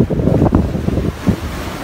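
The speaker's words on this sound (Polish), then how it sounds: "Zobaczcie na te fale." Ocean waves wash along a beach below English cliffs, a close, steady rushing surge with heavy wind buffeting the microphone.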